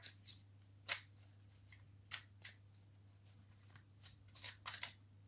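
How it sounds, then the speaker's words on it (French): Angel tarot cards are drawn and handled, making a string of soft, papery flicks and swishes at irregular intervals over a steady low hum, with no talking. "Je tire 3 autres cartes, enfin une carte déjà, avec le tarot des anges"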